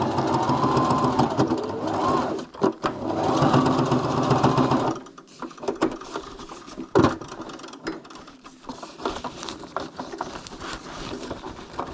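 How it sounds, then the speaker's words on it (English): A domestic sewing machine runs olive green stitching across a fabric tab loop on a dome tent, loud and close, whirring in bursts with pauses, knocks and handling clatter between runs. "What I will do is run a stitch across the top of that loop."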